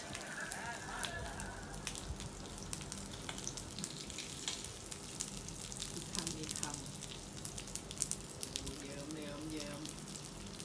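Pork neck sizzling on a grill pan in a small room, a continuous crackling sizzle with scattered spits and pops throughout.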